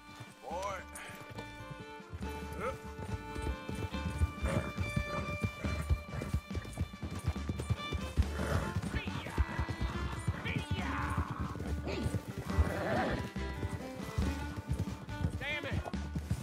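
A horse gallops in Red Dead Redemption 2, its fast, steady hoofbeats running throughout under a music score, with a whinny or two and a voice.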